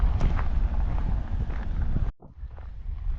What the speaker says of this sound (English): It's kind of windy, so you probably aren't gonna be able to hear me very good